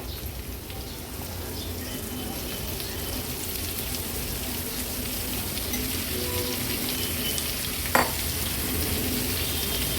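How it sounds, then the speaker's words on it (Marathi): Washed pumpkin pieces fry with onions in a pan, giving a continuous broad sizzle with a single sharp clink of a utensil near the end, close and unaccompanied by speech. "हा जो भोपळा फोडी करून घेतला आहे स्वच्छ धुवून तो ऍड करूया"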